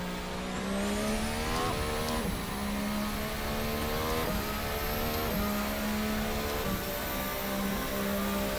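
A 1.6 liter single turbo V6 hybrid Formula race car engine screams continuously and loudly on track, rising through the gears with several sharp upshifts and rev drops, alone with no voices.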